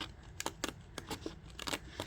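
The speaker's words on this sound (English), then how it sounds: "I kind of hold my scissors sideways" Scissors held sideways cutting paper, a close run of quick crisp snips and faint crinkles in an uneven rhythm over a low room hum.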